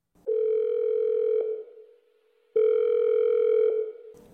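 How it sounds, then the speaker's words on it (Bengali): An outgoing phone call rings back with two long steady electronic tones separated by a pause of silence, clean and close with no voices. "ললিতার নাম্বারটা কল লিস্ট থেকে খুঁজে ওকে ফোন করল অলি।"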